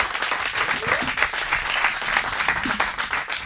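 Enthusiastic audience applause for a band at a concert, a thick sustained roar of many clapping hands, loud and continuous throughout.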